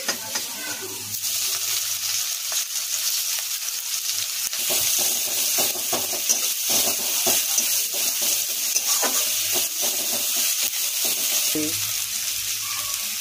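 Onions frying in white oil in a pan until reddish-brown, a steady close sizzle with occasional stirring scrapes throughout, no voices.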